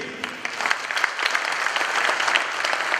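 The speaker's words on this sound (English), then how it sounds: "Ladies and gentlemen, a round of applause one more time for His Majesty the King." Sustained applause from a ceremonial audience honoring the Asantehene, Otumfuo Osei Tutu II, at an art awards event, a dense steady wash of many hands clapping at moderate loudness throughout with no voices over it.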